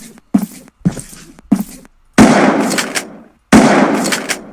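Gunfire from weapons shooting enemies in the indie action game Sanctum, five sharp loud shots, the first three short bursts in quick succession and the last two heavier blasts with long decaying tails.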